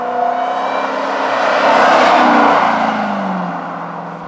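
A 2024 INEOS Grenadier Trialmaster Edition drives past, its engine note rising and swelling to a loud peak mid-pass before easing off, a steady close roar with no talking.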